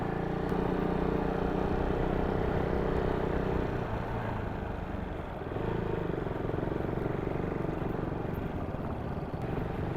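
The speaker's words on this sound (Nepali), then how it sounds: "फर्स्ट गियरमा इन्जिन ब्रेकिङ गर्दै हल्का हल्का क्लच लिँदै" A motorcycle engine drones steadily in first gear while engine braking downhill on a ride from Pokhara to Kushma, a continuous low rumble with wind noise throughout.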